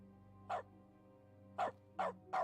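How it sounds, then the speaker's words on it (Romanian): Short electronic dog barks from a video game's dog mode, triggered by mouse clicks: a single bark, a pause, then three quick barks over a low steady game hum. "Ah, și de câte ori dau click acum latră."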